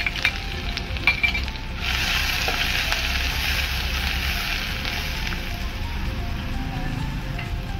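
Green chili dropped into hot oil along with ginger-garlic paste in a pan for sweet corn soup, bursting into a loud, continuous sizzle after a brief clatter at the start.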